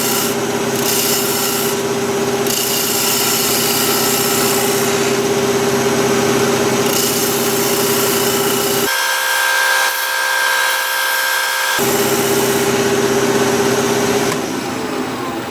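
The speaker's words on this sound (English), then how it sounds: "I want to round the corners, and I'll use my 3/8 bowl gouge for that." A wood lathe spins steadily while a 3/8 bowl gouge rounds the corners of a turned piece, giving a continuous loud scraping, rubbing cut over the motor's hum, with one brief pause in the cutting noise partway through.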